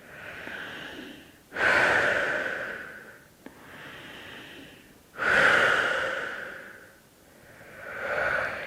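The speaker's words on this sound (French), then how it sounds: "Grande respiration par la bouche." During a yoga relaxation in shavasana, a person takes deep breaths, with two long, loud exhales through the mouth, softer breathing between them, and another breath swelling at the end, all close up.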